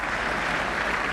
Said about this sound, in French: Et Hicham qui applaudit son adversaire.